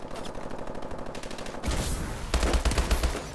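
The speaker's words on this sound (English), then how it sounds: "I'm hip firing way too much" Hip-fired automatic gunfire rattles in Call of Duty: Advanced Warfare, a rapid loud burst of shots that gives way to a denser, harsher volley of fire and impacts.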